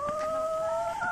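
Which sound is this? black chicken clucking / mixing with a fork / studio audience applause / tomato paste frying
black chicken clucking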